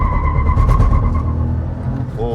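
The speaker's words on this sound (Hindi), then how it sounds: "सेकंड गियर में व्हील स्पिन" Renault Kiger turbo launching hard with second-gear wheel spin, a loud, close engine roar with tire noise over a brief moment, and a voice faintly in the background.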